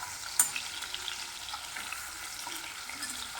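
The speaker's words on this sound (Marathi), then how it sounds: "बघा, छान असं पनीर आपलं तळत आहे।" Paneer cubes frying in hot oil, a steady soft crackling sizzle with a small sharp clink near the start, faint and close throughout.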